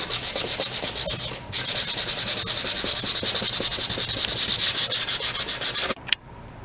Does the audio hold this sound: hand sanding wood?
yes